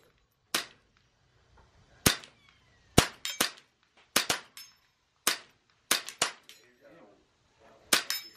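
Shots from a 1929 .22 rifle fired at long range, about a dozen sharp cracks at irregular intervals over near silence, each with a brief decay, fairly close and loud.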